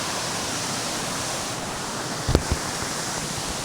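A hidden waterfall in the Wayanad hills gives off a dense, steady roar of rushing water close by. Two brief knocks stand out near the end. No voices are heard.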